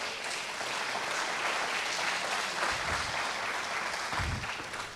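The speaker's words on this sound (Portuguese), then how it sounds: "Aplaude o teu Senhor," A church congregation claps together in sustained applause, a dense wash of many hands at steady volume from start to finish, with a few louder low thumps near the end and no clear voices.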